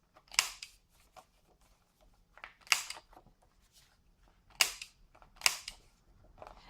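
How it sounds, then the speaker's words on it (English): A corner rounder punches the corners of scrapbook paper mats, giving four sharp, close crunchy snaps spaced a second or two apart with small rustles between them and no voices. "I'm just going to round all these corners"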